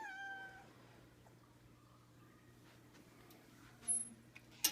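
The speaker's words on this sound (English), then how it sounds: "Grover, look, there's a kitty." A cat meows a few times at the start, faint against a steady low hum of room noise; later a couple of brief soft clicks.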